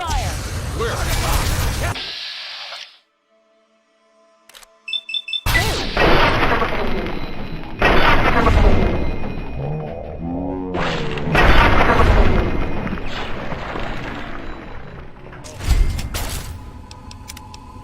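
Gunfire and explosions in Fallout 3 erupt in loud, harsh bursts and crashes, broken by a sudden near-silent gap before the blasts resume, with voices talking among the din.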